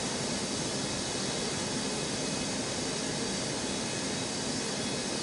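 A jet airliner lands on runway 22L at Newark airport in snow, a steady broad roar of engine noise holding constant and loud throughout.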